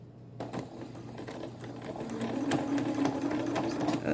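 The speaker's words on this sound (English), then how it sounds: "then we're going to start to sew" A sewing machine stitches T-shirt fabric at a steady pace, a fast rhythmic whirr and clatter that builds slightly in loudness.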